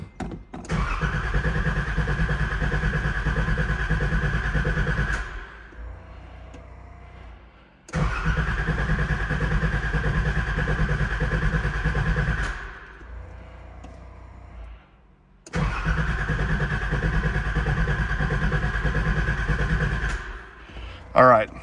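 Nissan 300ZX barn-find engine cranking over without firing, three long steady starter-motor bursts of about five seconds each, separated by pauses, close and loud.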